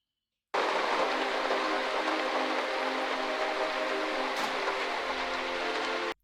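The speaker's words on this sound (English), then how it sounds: "It just starts raining out of nowhere and the sky gets dark." Rain from a scene in the TV series Lost starts abruptly as a loud, dense, steady downpour hiss, holds evenly for several seconds and then cuts off sharply.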